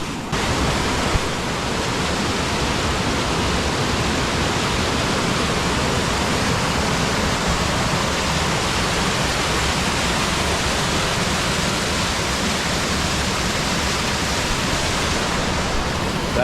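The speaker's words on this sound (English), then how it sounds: "I thought it was going to be a lot more of like a straight down waterfall right here" A waterfall and small river in Shenandoah National Park produce a loud, unbroken rushing roar, steady and close with no pauses or voices.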